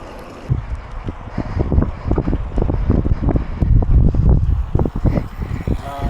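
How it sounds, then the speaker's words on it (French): Strong, steady wind buffets the microphone while cycling outdoors, a continuous loud rumble with gusting surges and no voices. "il y a encore pas mal de vent"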